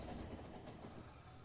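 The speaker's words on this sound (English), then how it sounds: "Look at those trains go." Trains running along rail lines in the factory-building video game Factorio, a steady low rumble with faint rhythmic rail clatter lasting throughout at moderate, even level, no speech.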